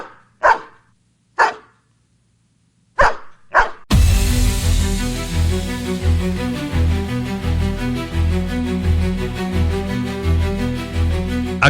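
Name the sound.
dog barking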